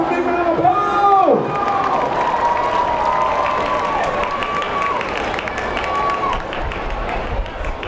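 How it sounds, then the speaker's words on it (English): Loud, sustained applause and cheering from a large crowd at a battle-of-the-bands stand round, dense clapping with a few whoops, plus a tonal sound that swoops early on and a couple of faint held tones later. "Can I give a big round of applause?"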